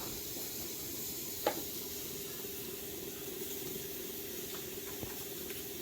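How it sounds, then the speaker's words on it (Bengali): Turmeric powder sizzling in hot ghee: a faint, steady frying hiss that stays even throughout, with a couple of small clicks and no voices. "গরম ঘিয়ের মধ্যে হলুদ গুঁড়ো দেব"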